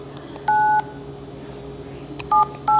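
A telephone keypad dialing, with one clear tone near the start, then a quiet pause, then two more tones close together at the end, each loud and distinct over faint background hiss.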